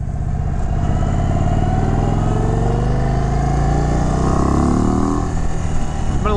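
The engine of a 2023 Indian Chief Sport motorcycle running close by, a loud, steady, throbbing idle with a slight rise in revs near the end.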